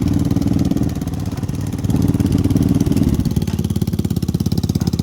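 Lifan KP Mini motorcycle engine, a ZS175FMN 300 4-valve or 167FMM 250 single, idling steadily after starting, with a loud, even low thumping pulse that smooths slightly partway through.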